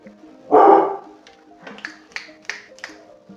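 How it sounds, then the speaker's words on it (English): A pet dog barking indoors, one loud close bark followed by several sharper, shorter yips spaced about a third of a second apart. "my dog's gone nuts."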